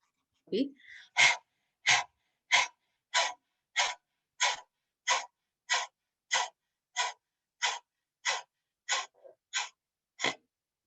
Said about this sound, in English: You can look up, tongue out, and start panting.